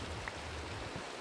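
Steady rain in the Minecraft video game, a dense, even hiss of falling drops with a low rumble beneath it, continuous and moderately loud with no talking.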